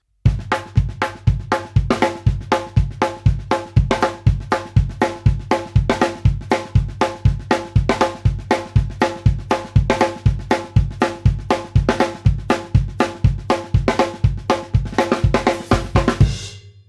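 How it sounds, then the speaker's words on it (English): A drum kit plays a rock train beat with accents, a steady rapid snare pattern with punchy accented hits over a driving pulse, loud and close, continuing for several bars and ending with a crash. "There are so many variations with accents with the train beat"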